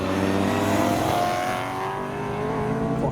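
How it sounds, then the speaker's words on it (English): A V8-engined 2 Series and a Caterham race each other on a track day circuit, engines droning and rising in pitch as they accelerate past at mid distance, heard without any talk. "We've got the V8 2 Series and the Caterham battling each other out."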